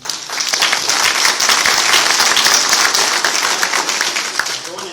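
An audience at a public meeting on widening I-77 applauds, with dense, steady clapping from many hands filling the room for several seconds, loud and continuous.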